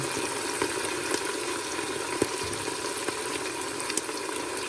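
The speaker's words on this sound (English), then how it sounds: "this is where we're going to add some collards to the pan" Collard greens sizzle and wilt in a hot pan with a steady, broad hiss. Faint crackles and pops rise now and then, and no voices are heard.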